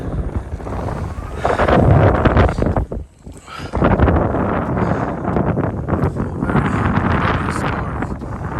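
Strong wind buffets the microphone outdoors at the Little Bighorn battlefield in Montana, a continuous loud roaring rush with a brief lull midway before gusting back up.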